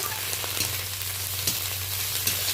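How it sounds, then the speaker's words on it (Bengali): Steady crackling sizzle of tomatoes frying in a pan with onion and ginger paste, with a few soft scrapes of stirring and a low background hum. "টমেটো ভালো করে নেড়ে নিচ্ছি।"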